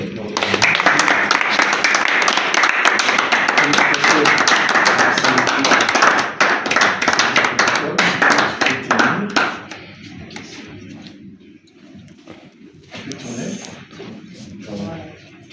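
An audience at an award ceremony for the communicators of 100% Fatshi applauds loudly and steadily for several seconds, the clapping then thinning out and fading to scattered claps as someone speaks.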